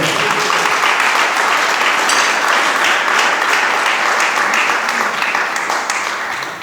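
A church congregation claps together in sustained, dense applause for several seconds, loud and steady throughout with a slight fade near the end.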